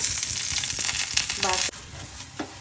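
Food for children frying in ghee in a pan, making a loud, dense, close sizzle that runs steadily, with a brief clatter near the middle before the sizzle continues more quietly.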